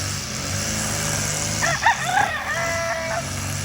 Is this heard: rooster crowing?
yes